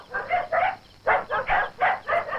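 A dog barks in a rapid series of about eight close, sharp barks in quick groups during a homely comedy scene, with no talking over them.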